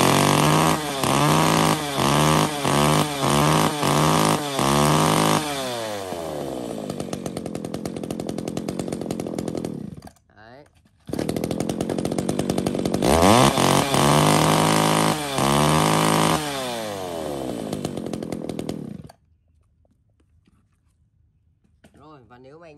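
Used Japanese chainsaw, started and running: several sharp pull-start cranks, then the two-stroke engine catches and revs up loudly, drops back, cuts out briefly, and roars again before shutting off, close by and loud.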